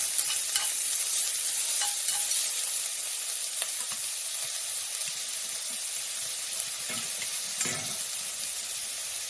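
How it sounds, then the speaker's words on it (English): Garlic sizzles steadily in a hot pan while being stirred, with occasional scraping clicks of the utensil against the pan, close and unaccompanied by speech. "Go fry that for about half a minute as well."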